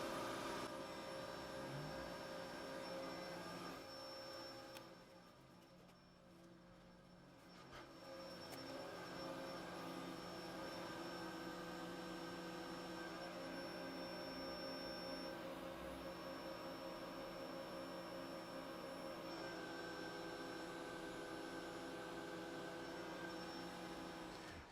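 A steady, faint high-pitched machining whine from a lathe pass cutting Inconel pipe at 3,000 RPM, droning continuously with a short dip partway through and no voices.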